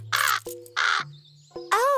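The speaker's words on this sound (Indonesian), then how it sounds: "Dia burung gagak." Cartoon crow gives three loud harsh caws, close and clear, separated by short gaps with a low tonal hum, no speech.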